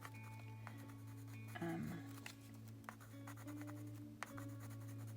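Pencil or marker scratching as someone colours on a matte gel medium photo transfer, soft intermittent strokes and scrapes, close but faint over a steady low electrical hum.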